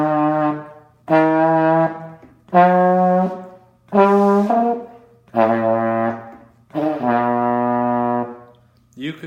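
A beginner-level brass wind instrument plays an eight-note scale upward, one sustained tone after another with short breaths in between, each note clear and loud and heard alone.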